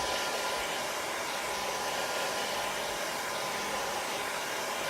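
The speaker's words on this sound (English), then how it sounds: "I'm gonna grab my hair dryer. Go ahead and dry this up." A hair dryer blows steadily at close range, a constant loud airy whoosh with no breaks.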